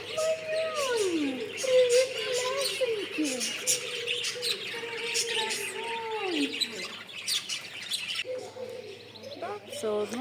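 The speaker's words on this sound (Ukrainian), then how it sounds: "Вони кричать, попугаї." Many parrots call and squawk together, loud harsh cries with some warbling tones, while people talk nearby, in Cyprus.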